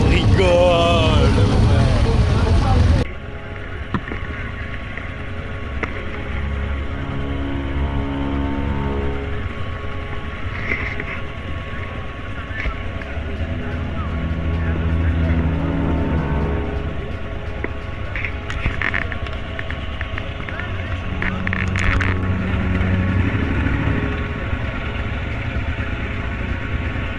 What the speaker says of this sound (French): les moteurs qui démarrent